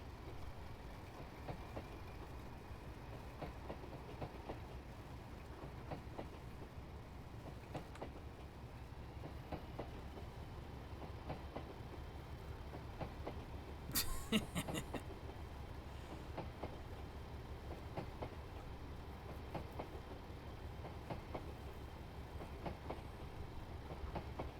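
A long train of railroad cars rolls steadily past, a low continuous rumble with faint rhythmic clicks of wheels over rail joints and a brief sharper burst midway, heard from a moderate distance.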